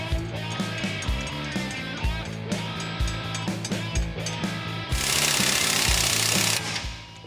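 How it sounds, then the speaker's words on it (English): A power tool hammers rapidly as it torques truck suspension U-bolts to factory spec during a lift install, loud and close, with a steady rattling impact rhythm that grows harsher near the end. "We'll torque all of our U-bolts down to factory spec, which is 185 foot-pounds."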